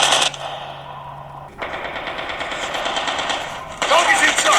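Rapid automatic gunfire from the COD Mobile shooter game on a Xiaomi Redmi Note 9S, with close, loud bursts of rattling shots and a short pause between them.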